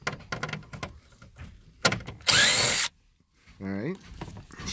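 A power drill backing a 7mm screw out of a Ford F150 dashboard, with one loud half-second whir and a shorter rising spin amid clicks, handling noises and talking.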